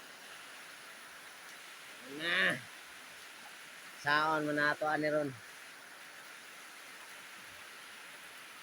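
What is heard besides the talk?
rain falling outside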